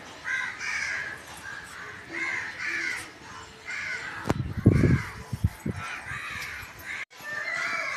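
Crows caw repeatedly in harsh bursts, fairly close, with a brief low rumbling knock partway through.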